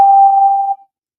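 Second harmonic of a flute tone: a single steady, pure whistle-like note held for under a second, fairly loud and alone, then cutting off cleanly into silence.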